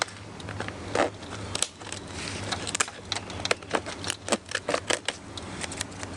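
Pruning shears snip branches on a small bonsai tree set on a turntable, a run of sharp, close clicks and cuts coming in an uneven rhythm, with faster snips clustered toward the end.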